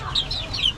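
Backyard chickens, including grey pullets and a golden hen, cluck softly in a short, steady burst of close, low-level fowl sounds with no talking.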